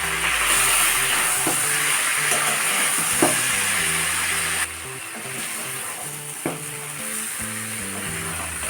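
Singi fish curry with bitter gourd sautéing in hot oil, a loud steady sizzle throughout with occasional stirring clinks and scrapes close by.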